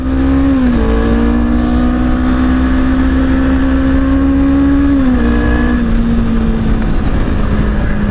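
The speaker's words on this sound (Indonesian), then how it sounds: "Gila, suara dari knalpotnya sih, kalau knalpot standar masih enak lah, masih fine lah, nyaring gitu loh." Honda CBR250RR motorcycle with stock exhaust ridden in sport mode: a loud, continuous engine drone held at high revs, with pitch dips at each gear change and no talk over it.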